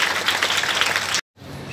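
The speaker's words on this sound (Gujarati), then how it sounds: "આપણે તાળીઓના ગડગડાટથી બજાવી દઈએ" Audience applause at a ceremony opening a memorial charitable programme, loud dense clapping for about a second before cutting off abruptly, followed by quieter room sound.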